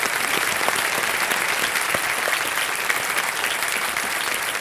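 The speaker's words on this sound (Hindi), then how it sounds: "एक बार तालियां बज जाएं" Studio audience applause on a talk show welcoming a guest, loud and dense clapping sustained evenly for several seconds, with no speech on top.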